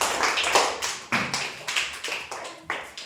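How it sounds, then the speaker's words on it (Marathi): Schoolchildren in a classroom clap after a science activity with water in a bottle and glass, producing a series of sharp, separate, irregular claps at close range and moderate volume, with no voices. "टाळ्या वाजवा सगळेजण"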